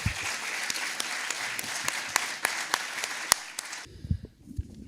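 Audience applause at a book interview event at a national library: steady, dense clapping from a seated crowd that fades out abruptly near the end, leaving a few scattered claps.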